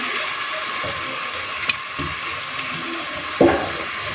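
Mutton keema with peas frying dhaba-style in a pan over a low flame gives a steady, even sizzle throughout, with a couple of brief utensil knocks near the end.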